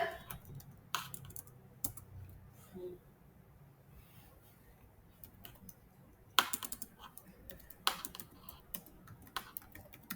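Computer keys are typed in scattered short bursts of close clicks over a quiet room, with a soft voice speaking at times.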